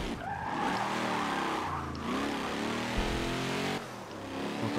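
A race car in a Forza or Dirt racing video game roars loudly with a revving engine and squealing, skidding tires through a corner, its pitch shifting several times.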